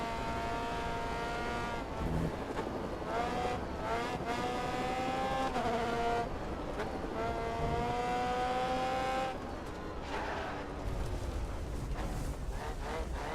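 A race car in the video game Grid Autosport runs an easy first lap of a new track, its engine climbing and dropping through repeated gear changes, with brief tire noise toward the end.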